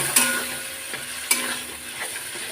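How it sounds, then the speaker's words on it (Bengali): Spice paste with green chilli sizzles in oil in an iron kadai while a spatula scrapes and stirs it, steady frying hiss with a few sharp clinks close by, no talking. "এবার আমি খুব সুন্দর করে মশলাটাকে কষিয়ে নেবো যতক্ষণ মশলা থেকে তেল ছেড়ে আসছে"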